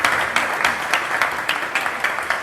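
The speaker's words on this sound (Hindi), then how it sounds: "जोरदार तालियां फॉर बीइंग अ स्पोर्ट" Audience applause for a volunteer at a live stand-up comedy show, a steady wash of clapping with rhythmic swells, fairly close and filling the whole moment without talk.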